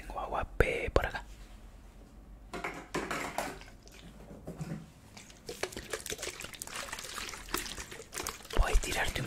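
Water being poured during a live ASMR session, with bursts of trickling and splashing liquid heard close to the microphone, mixed with whispering and mouth sounds.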